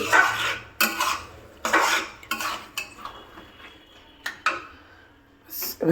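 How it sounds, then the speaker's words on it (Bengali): A metal lid goes onto a pan of pav bhaji on a gas stove that has just been turned off, giving a series of sharp clanks and scrapes separated by short pauses. "গ্যাসটাকে অফ করে দিয়ে এটাকে এবার একটু ঢাকা দিয়ে দেবো"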